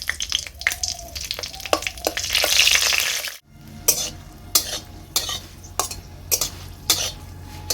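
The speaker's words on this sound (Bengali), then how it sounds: "তেল গরম হয়ে গিয়েছে, এবার এতে আমি শুকনো লঙ্কাগুলো দিয়ে দিচ্ছি।" Dried red chillies frying in hot mustard oil in a pan, a sizzling burst that rises and fades, followed by sharp intermittent scraping and stirring clicks of a utensil against the pan, close and fairly quiet.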